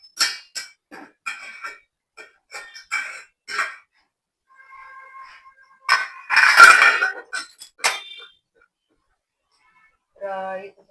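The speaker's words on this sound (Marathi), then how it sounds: "झाकण काढते मी." A metal lid is lifted off an idli steamer in a home kitchen, giving a burst of clanking and steam hiss among scattered clinks of utensils, with someone talking around it.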